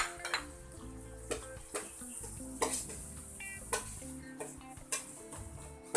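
Garlic sizzles in butter in a pan, a steady frying hiss broken by repeated clinks and scrapes of a utensil stirring against the pan, close and busy, with no talking.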